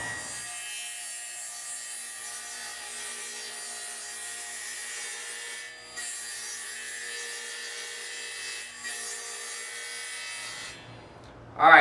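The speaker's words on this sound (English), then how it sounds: "So we'll go ahead and get that ripped down." A wooden board is ripped lengthwise to 11 1/4 inches wide on a power saw, giving a loud, steady whine with a constant cutting hiss for about ten seconds, two short dips midway, then a burst as the cut ends.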